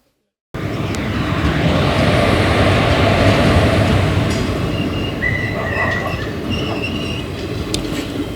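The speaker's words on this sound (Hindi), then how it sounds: "बामनिया रेलवे स्टेशन पर हमारी ट्रेन डेमो एक्सप्रेस भोपाल से दाहोद इंटरसिटी आ चुकी है" DEMU Express, the Bhopal–Dahod Intercity, arriving at Bamnia railway station: a loud rumbling roll of wheels and coaches that swells and holds, with brief high squeals and a faint horn-like tone near the end.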